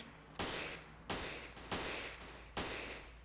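Kicks landing on enemies in a gangster video game: four sharp, evenly spaced impact thuds, each followed by a short fading whoosh, loud and close with no talk.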